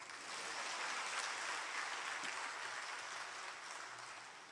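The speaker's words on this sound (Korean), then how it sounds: "박수 쳐요." Applause from a church congregation, a dense steady wash of clapping that holds loud throughout and eases slightly toward the end, with no voices over it.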